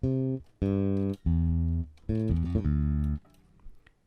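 Several buzzy, raw synthesizer bass preset notes from FL Studio's Maximus play alone in a choppy rhythm, each rich in harmonics and cleanly cut off between notes.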